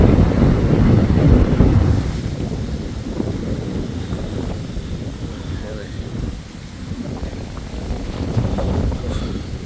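Powerful floodwater rushes through a village after a night of flooding, a continuous loud roar and wash that stays steady throughout, with wind-like rumble and speech over it.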